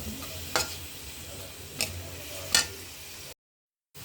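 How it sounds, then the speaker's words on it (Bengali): Onion frying in oil in a pan, a steady moderate sizzle punctuated by three sharp clicks of a spatula against the pan, then a brief cut to silence. "পেঁয়াজ, তেল দিয়ে দেবো। পেঁয়াজটা একটু ভাজি করবো।"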